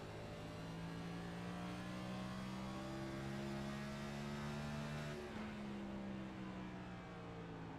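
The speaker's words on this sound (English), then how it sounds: "Jesse Fox is rolling around this track in just 4th gear" NASCAR race car engines in the iRacing video game at Richmond roar steadily, a sustained droning pitch held in fourth gear with a slight shift partway through, loud and continuous without talk.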